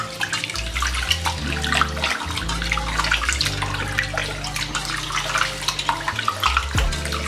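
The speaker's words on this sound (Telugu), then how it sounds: "రైస్ని బాగా వాటర్లో కడగాలి." Rice being washed by hand in water in a home kitchen, a steady wet swishing and splashing that runs throughout at close range with no voices.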